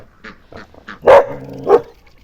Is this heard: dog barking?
yes